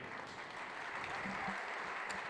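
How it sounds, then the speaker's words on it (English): Audience at a livestock expo auctioneer contest gives a faint, distant round of applause for the judges, a soft steady patter of clapping in a large hall. "Let's just give one last round of applause to our judges."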